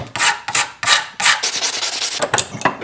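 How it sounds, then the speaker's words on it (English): A rasp files the handle scale material of a frame lock knife in close, loud strokes: a few long pulls, then quicker, shorter rubs. "Maybe we'll try it with a rasp."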